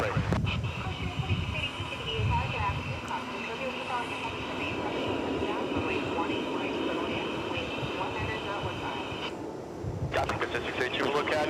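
A jet engine roars steadily at DFW Airport, a broad sustained rumble from a plane on the ground or taking off, with air traffic radio chatter heard over it throughout.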